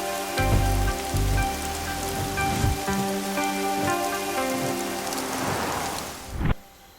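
Heavy rain pours steadily, drumming on a surface with a dense hiss, while low rumbling swells underneath and fades near the end.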